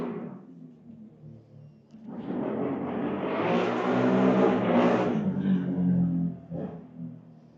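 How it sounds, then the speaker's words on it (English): A noisy motorbike engine swells from a distant drone to a loud revving roar, holds for several seconds, then fades as it passes. "it's a very noisy motorbike."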